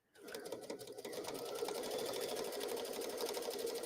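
A sewing machine runs a steady, continuous zigzag stitch attaching ribbon onto fabric, starting up abruptly and holding a fast, even mechanical whir up close with no talk.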